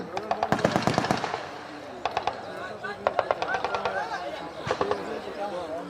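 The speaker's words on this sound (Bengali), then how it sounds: "পর ফায়ার সহায়তা প্রদান করা হচ্ছে" Machine gun bursts ring out during an army winter combat exercise, several rapid volleys separated by short pauses, loud and sharp against a busy background with faint voices.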